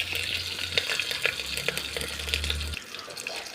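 A cooking pan boils and sizzles steadily on a wood-stick stove as green chillies go into an egg dish, with wet bubbling, spoon-stirring clatter and a low rumble that cuts off near the end.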